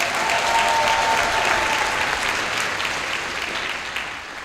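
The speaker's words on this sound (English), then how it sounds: "One more round of applause." Sustained audience applause at a high school orchestra spring concert, a dense steady wash of many hands clapping in a hall that gradually thins toward the end, with no talk.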